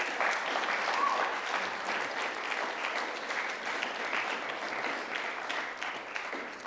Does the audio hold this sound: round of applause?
yes